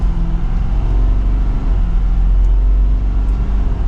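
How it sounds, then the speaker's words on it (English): A 2023 Ford F-250 Super Duty Lariat pickup accelerates on the road from inside the cab, a steady deep engine drone and low rumble holding strong and even throughout. "And we'll pop it into the manual setting and give it some gas."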